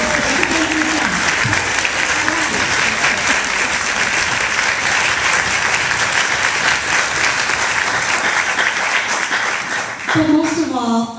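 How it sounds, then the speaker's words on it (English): Applause from a concert audience for students' parents at an honor band performance, a loud sustained wash of clapping and crowd noise that cuts off near the end as voices and a tone return. "how about you draw an applause for these parents?"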